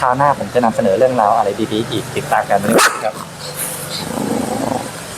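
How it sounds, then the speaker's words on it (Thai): A dog barks from the street outside a home in Phra Pradaeng, sounding distant and intermittent beneath continuous close speech from a man and a woman. "เนี่ยเสียงหมาข้างกลางซอยเห่า"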